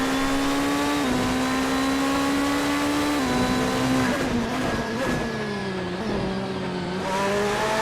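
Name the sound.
Ferrari GT3 race car engine in racing video game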